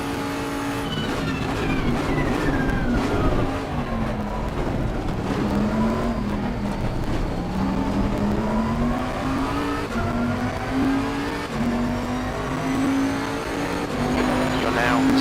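Bentley GT3 race car in a racing video game on a practice lap, the engine droning loud and continuous as it climbs through the gears and drops on shifts, with tire noise underneath.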